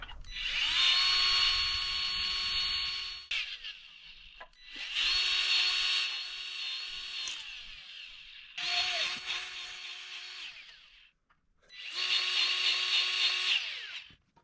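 A 70-year-old sickle mower, freshly greased, running in place in four long bursts of loud, steady mechanical whirring and clatter, each stopping briefly before starting again, close by with no talking.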